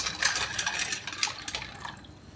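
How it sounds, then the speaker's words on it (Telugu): A small amount of water pours and splashes into a bowl of dry pasta, a close, fluttering trickle that tapers off toward the end. "అందులో మనము తీసుకున్న పాస్తా వేసుకొని వాటర్ కొద్దిగా వేసుకొని"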